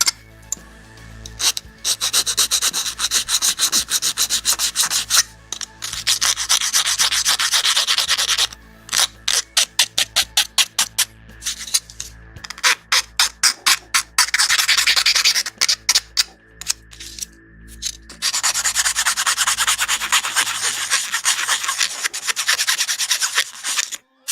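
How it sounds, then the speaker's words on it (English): Edges of plastic model kit parts for a 1/32 Arii '63 Porsche Turbo are deburred with a file, giving close, loud scratchy rubbing in quick back-and-forth strokes broken by short pauses. "Just deburr those edges a bit."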